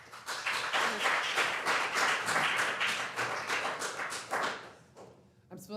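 Audience applause at a city council meeting: sustained dense clapping from a crowd, loud and steady for several seconds before tapering off near the end.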